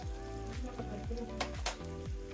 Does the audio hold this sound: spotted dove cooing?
no